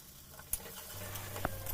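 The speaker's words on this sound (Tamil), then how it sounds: "இப்போ ஓரளவுக்கு எல்லாம் எண்ணெயில் நல்லா வதங்கிடுச்சு. ஆனால் இன்னும் கொஞ்சம் வதங்கட்டும்" Okra and onions sautéing in oil for a tamarind curry, a soft close crackle and patter with a few sharp ticks of a spoon against the pan, no voices.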